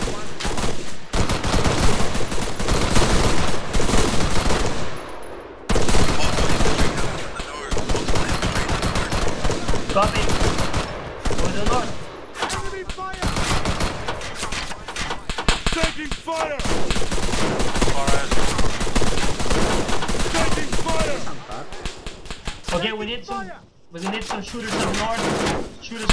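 Rapid bursts of automatic gunfire in a video game, loud and dense, coming in long sustained volleys with short gaps, with occasional speech mixed in.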